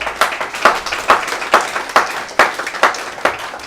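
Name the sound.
church congregation applause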